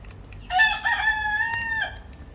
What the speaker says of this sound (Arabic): طبعا انتوا سامعين صوت الديك